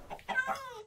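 A chicken clucks in the video game Minecraft, one short burst of two or three clucks, clear and close.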